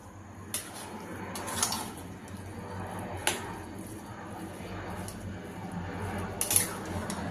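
A spoon scrapes and taps a pan while coconut burfi mixture is stirred over low flame, with faint intermittent metallic clinks above a soft steady background hiss, quiet and close.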